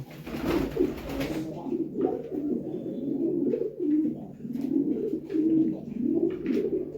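Pigeons coo close by in repeated soft, throaty rolling calls that overlap steadily, with a brief flutter of wings near the start.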